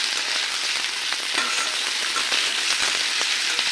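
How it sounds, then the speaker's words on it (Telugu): Ingredients fry in a pan over a high flame, giving a steady, loud sizzle with faint scraping and stirring clicks throughout, and no voices. "స్టవ్ హై ఫ్లేమ్లో పెట్టుకొని వేయించుకోవాలి."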